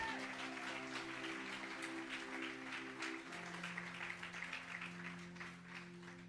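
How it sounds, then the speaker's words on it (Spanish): A church congregation claps at a Spanish-language sermon, soft and steady, under sustained organ or keyboard chords that shift pitch midway. "Denle un aplauso al Señor"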